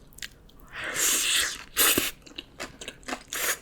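Close, crisp crunching and chewing of homemade Korean bibimbap with seasoned vegetables, several loud crunchy bites clustered together with softer squishy mouth sounds between them, no talking.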